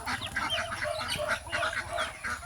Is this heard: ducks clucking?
yes